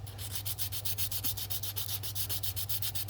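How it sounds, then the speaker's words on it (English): Rhythmic sanding right behind the button, likely on a musical instrument's bite zone, gives a steady back-and-forth rasp of close, even strokes over a low hum with no voices. "so you can sand right behind the button"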